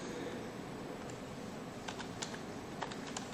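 Typing on a computer keyboard while compiling and running a C# quadratic program, with scattered, fairly faint key clicks over steady background noise and no voices.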